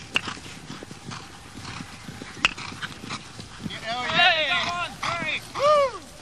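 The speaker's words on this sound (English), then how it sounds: "Only this week, 30 polo ponies arrived from Argentina." Hooves of polo ponies clop over hard ground amid a bustling stable yard, with people talking, a dog barking and a horse whinnying in the background.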